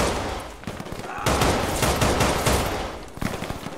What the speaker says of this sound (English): They're firing through the window.